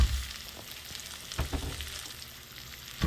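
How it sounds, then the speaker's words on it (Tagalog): Chili peppers sauté in a pan for beef papaitan, a quiet, steady sizzle broken by several scraping stirs and light clinks of a utensil. "Magsama rin tayo ng sili sa ating ginisa."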